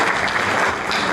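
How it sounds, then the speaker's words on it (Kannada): Hall audience at an awards ceremony honouring achievers applauds loudly and continuously, a close, dense wall of clapping with no talk. "ತಾರಾ ಅನುರಾಧ ಇವರನ್ನ ಚಪ್ಪಾಳೆಯೊಂದಿಗೆ ವಂದಿಸೋಣ."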